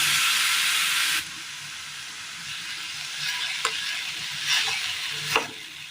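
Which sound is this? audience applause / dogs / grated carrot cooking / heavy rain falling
grated carrot cooking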